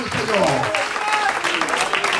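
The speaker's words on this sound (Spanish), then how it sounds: "Fuerte, fuerte, fuerte ese aplauso" A church congregation applauds to praise God through a sustained, dense wash of clapping, with a voice carrying on loudly over it the whole time.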